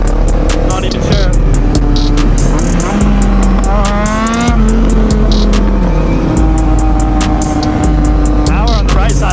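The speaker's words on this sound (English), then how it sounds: "You guys can really hear that street triple rip." A Triumph Street Triple street bike engine revs and pulls hard while ridden, a loud continuous roar that rises and falls through the gears, with wind noise around it.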